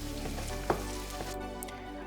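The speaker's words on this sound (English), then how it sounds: "Stir the onions until it gets to the golden brown color." Onions frying in oil over medium heat, a close, steady sizzle with one soft stirring knock partway through, no speech.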